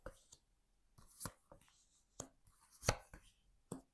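A deck of tarot cards is cut and shuffled by hand at close range, giving a handful of soft, sharp slaps and riffles spaced irregularly over a quiet background.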